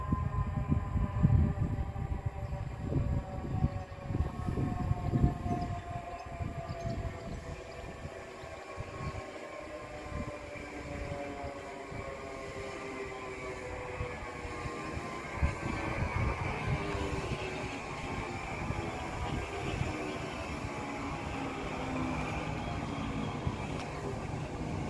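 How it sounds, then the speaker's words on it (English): Train pulling into Faygate station on a strike-day Saturday, rumbling low and loud with squealing, gliding brake tones rising and falling as it slows, steady rolling noise continuing to the end. "let's wait for my train to arrive."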